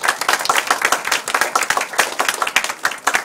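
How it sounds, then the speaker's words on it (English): Audience applause at an encouragement talk, a close, loud, lively patter of many hands clapping for several seconds with no speech over it. "So give yourself a big round of applause."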